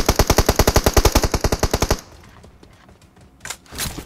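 Rapid automatic gunfire bursts from a shooting video game, a fast, even stream of about twenty loud shots over two seconds, followed by a few scattered fainter shots and impacts.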